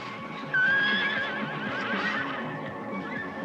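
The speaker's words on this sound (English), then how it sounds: "No, it was a horse, I'm sure of it." A horse whinnies loudly and close by, a long wavering neigh rising then trailing off over several seconds against a rumbling outdoor background on a remote island.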